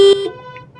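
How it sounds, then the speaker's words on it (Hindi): A car horn or alarm-like beep gives one loud, sharp tonal blast on busy Samundri Road in Faisalabad, a double road beside a canal in rainy weather, followed by a low murmur of passing traffic. "ये ट्रैफिक देखें कितनी ट्रैफिक है जी।"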